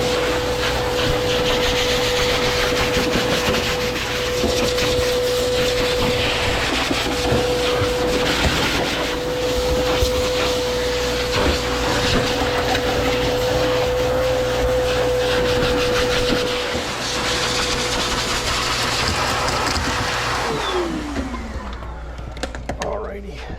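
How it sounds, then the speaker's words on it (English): A high-powered pet force air dryer blows coat out of a shedding pet with a loud, steady whoosh and whine, winding down at the end as it switches off. "This is going to get more coat out using this force air dryer."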